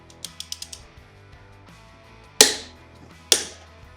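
A torque wrench gives a quick run of ratchet clicks, then two sharp, loud metallic clicks as the final torque is set on a Harley Dyna compensator.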